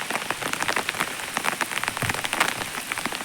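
Rain falls steadily near hills and a rubber plantation, a dense close patter of drops striking leaves and surfaces, continuous and soft with no voices.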